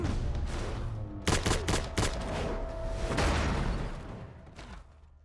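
Rapid bursts of gunfire from a Westworld episode, with sharp overlapping shots clustered in the first half and a final loud volley before the sound tapers off, dense and close with no talk.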